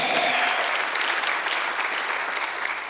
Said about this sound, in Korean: 하나님이 원하시는 바를 믿는 사람만 박수하세요